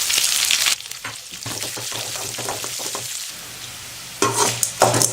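Onions sautéing in oil with fried dal, dried chillies and curry leaves for beetroot rice: bursts of bright sizzle broken by quieter stretches and spatula stirring, no one talking.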